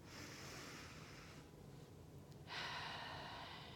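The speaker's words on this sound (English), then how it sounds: "take a nice deep breath right that moment" Two slow, deep breaths come close and quiet: a long airy inhale, a short pause, then a second breath just as full.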